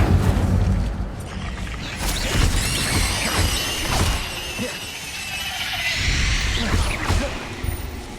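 Incendio fire spells blast in Hogwarts Legacy combat, a dense run of loud whooshing bursts and crackling impacts with booming hits and debris, continuous and chaotic throughout.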